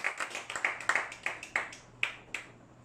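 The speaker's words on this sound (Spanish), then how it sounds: "démosle un aplauso fuerte a nuestro Señor Jesucristo" Scattered hand claps, a dozen or so uneven sharp slaps from a small group, fairly close, with a faint low hum underneath.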